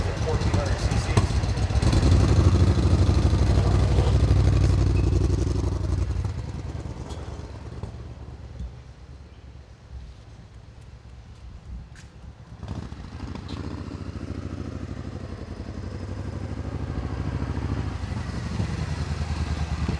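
A 1994 Suzuki VS1400GLP Intruder, a 1400 cc V-twin cruiser, runs with a deep throbbing engine rumble that is loud at first, eases to a lighter idle mid-clip, then builds again, with someone talking throughout.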